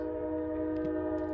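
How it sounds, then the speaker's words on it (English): A passing train, its steady tonal horn or whistle droning at a distance over a low rumble for the full stretch, with no talk. "sorry about the train"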